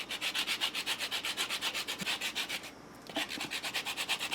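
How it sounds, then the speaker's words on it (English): A lemon is rubbed against a grater for zest in quick, even rhythmic strokes, about twenty rasps with a short pause midway, quiet and close with no talking. "Then we're going to add just a little bit of lemon zest."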